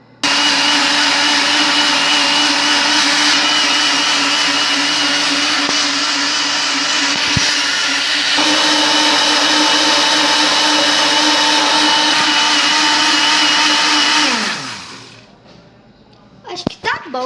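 A kitchen blender whirs loudly and continuously while making a strawberry smoothie, its motor steady for about fourteen seconds before winding down to a stop, followed by faint handling noises.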